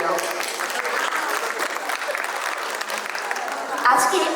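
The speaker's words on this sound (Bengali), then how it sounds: "বড় একটা হাততালি হয়ে যাক আমাদের স্পন্সরদের জন্য।" An audience applauding sponsors at a Boshonto Utshob spring festival opening, dense sustained clapping that fills the whole stretch, with a brief voice near the end.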